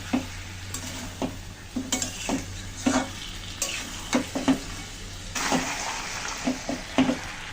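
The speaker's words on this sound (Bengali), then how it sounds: "নারকেলের দুধ দিয়ে কিন্তু সুন্দর করে কষিয়ে নিলাম" Masala cooking down with coconut milk in a pan, frequent scraping stirs and clacks of a spoon over a soft sizzle, close and without speech.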